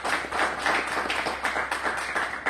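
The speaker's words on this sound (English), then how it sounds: "Let's give Peter and Denise a round of applause." Audience applause at a special meeting on emergency response planning, a steady stretch of many hands clapping in a room, even and sustained throughout.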